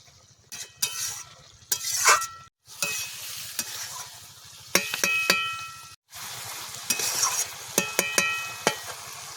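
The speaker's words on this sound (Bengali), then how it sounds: "এবার সর্ষে বাটাটা দিয়ে দিচ্ছি। এবার 2 মিনিট ফুটিয়ে নিচ্ছি।" A Bengali bitter dish of rohu fish head with mustard paste bubbles and sizzles in a pan, stirred with a utensil that clinks and scrapes against the metal in irregular bursts over a steady low simmer.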